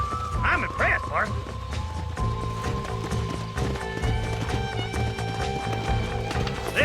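Horse hooves clip-clopping at a run in the Red Dead Redemption western video game, steady and close, mixed under game music and character dialogue.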